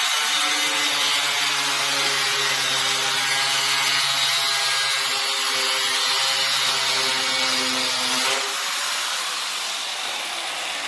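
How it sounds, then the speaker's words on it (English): A power saw trims about a quarter inch off a waterproof vinyl floor plank, making a loud, steady whine with a grinding rasp that holds for around eight seconds before the blade spins down and a duller hum remains. "So I need to cut about 1/4 inch of it off."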